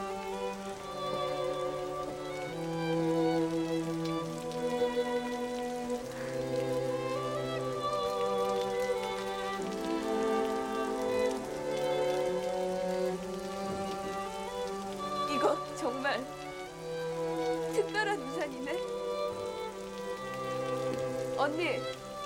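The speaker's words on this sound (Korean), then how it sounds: "오늘 이렇게 비가 오는데" Steady rain pours down in a Korean film scene, a continuous hiss of drops on surfaces with scattered louder splashes, playing beneath sustained background music.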